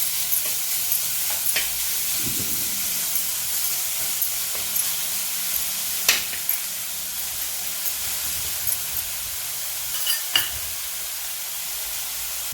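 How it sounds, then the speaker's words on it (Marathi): Sweet potato kheer mixture sautéing in hot ghee gives a steady close sizzle and hiss, with a few scrapes and clinks from stirring scattered through it and no talking. "तूप आपलं गरम झालेलं आहे याच्यात हा खीर घालत आहे हा थोडासा आपण परतून घेणार आहोत"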